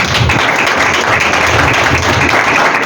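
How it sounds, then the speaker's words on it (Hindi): Loud, steady applause from a crowd at a Hindi/Urdu sermon gathering, dense continuous clapping that fills the whole moment without pause. "तो आपको जी जरा जोरदार तालियां मुझे सबके लिए।"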